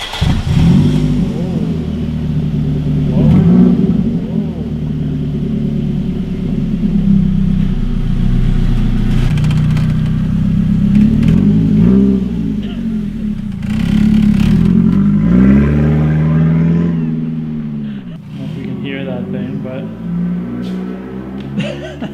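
A Nissan 370Z fires up from a cold start with a deep, loud rumble close by, then revs up and falls back several times, the engine note swelling and dropping under people talking.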